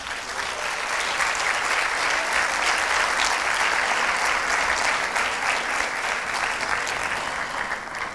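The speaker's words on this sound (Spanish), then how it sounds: "un fuerte aplauso para los poetas." Audience applause for student poets at a secondary-school Shakespeare festival poetry session in Argentina, a sustained, dense clapping that holds steady and loud throughout with no voices over it.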